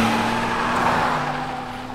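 A car drives along with a loud, steady engine drone and road rumble that eases slightly toward the end, with no talking.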